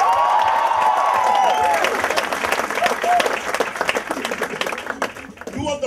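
A crowd at MTV's Youth Marketing Forum welcomes Priyanka Chopra with loud, sustained applause and cheering; a high whoop rises over the clapping early on, and voices mingle throughout as the clapping thins toward the end.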